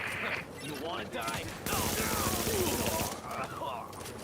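Automatic gunfire in The Division 2, a player firing at a wall, a sustained burst of rapid shots in the middle of the clip, with bits of game sound and a voice around it.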